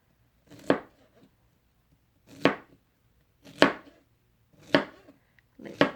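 A knife chops through pineapple slices on a cutting board in five separate firm strokes, each a crisp crunchy cut followed by a short pause, close and clear with no talking.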